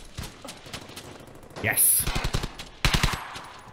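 Suppressing gunfire in the World War II shooter game Hell's Highway: two bursts of rapid automatic fire, the first around the middle and the second near the end, with a brief spoken word among them.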